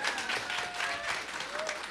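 An audience applauds at a live Malian music show as a griotte is introduced, a dense wash of clapping under an announcer's voice for a couple of seconds.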